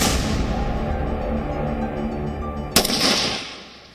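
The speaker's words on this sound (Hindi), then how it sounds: "यहां कुछ कैडेट्स फायरिंग में महारत हासिल कर रहे हैं" Cadets fire rifles and pistols at a training range, and the shots come as a dense, rolling rumble of gunfire. One sharp, loud crack stands out near the end before the sound fades out.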